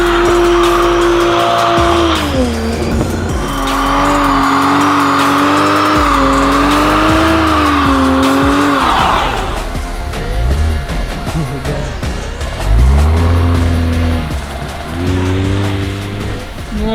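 Toyota MK5 Supra doing continuous donuts on new tires: loud, sustained tire squeal with wavering pitch over a roaring engine, dipping briefly before revving and squealing again close by.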